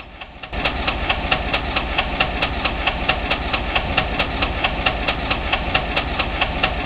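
A steam locomotive engine in a train simulator game chugs steadily as the throttle opens after a brief quiet start, with evenly spaced sharp clanks ticking over a continuous rumble and hiss.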